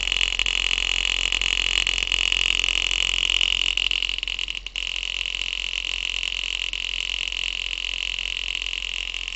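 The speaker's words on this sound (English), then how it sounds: "The noise you can hear is the metal rod hitting everything like that." A homemade acoustic engine drives a balloon diaphragm, and its metal rod knocks rapidly against nearby parts in a steady buzzing rattle. A high whine holds throughout, with a brief dip midway.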